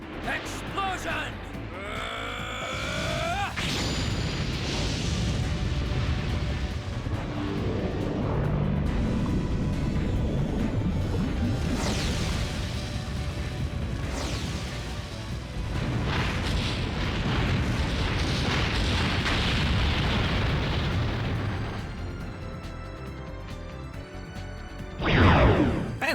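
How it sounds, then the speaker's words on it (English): A spell explosion from the video game Legend of Dragoon strikes all enemies, giving a dense, sustained rumbling blast with crackling layers and a sharp burst near the end, mixed with game music and a voice talking over it. "here's our explosion"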